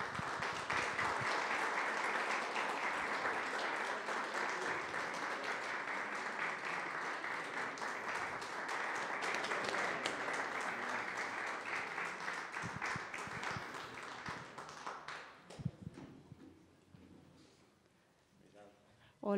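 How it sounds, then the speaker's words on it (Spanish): An audience applauds as two guests are welcomed on stage at an evening event, steady clapping for about fifteen seconds that thins out into scattered claps and quiet room noise. "les pido un aplauso,"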